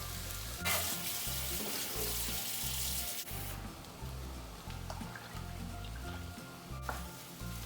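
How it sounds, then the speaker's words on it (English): Veggie chorizo sizzling and frying in hot oil with spices in a pan, a steady loud hiss running throughout under a low rhythmic pulse of background music, with a brief dip near the middle. "And now we'll add in that veggie chorizo that I mentioned"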